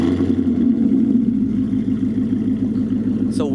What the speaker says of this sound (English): let's do a little nice warm start so you guys can hear that MBRP